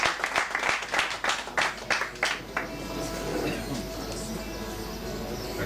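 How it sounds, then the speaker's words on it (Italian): Audience applause for a futsal coach receiving a special award at a futsal day event, a burst of rhythmic clapping that fades after a few seconds into a noisy room murmur. "un applauso per lui."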